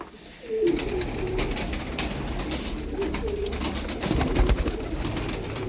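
Pigeons kept as Turkish game birds coo in low, soft repeated phrases close by, with faint rustling and other bird calls around them.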